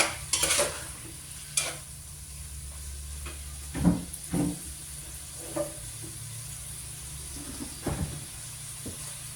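Kinamatisang karne, pork in tomatoes, cooks in a pan with a soft background sizzle, broken by several sharp stirring scrapes and knocks of a utensil against the pan.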